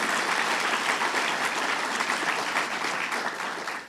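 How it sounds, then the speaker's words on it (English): Dense, loud applause from a large audience for Mayor Warren at a governor's regional budget presentation, a sustained wash of clapping that tapers slightly at the end. "Let's give her a round of applause."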